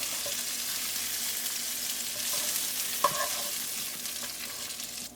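Chicken for chow mein sautés in a hot pan with a steady bright sizzle and the scrape of stirring, one sharper clink midway, close up with no talking.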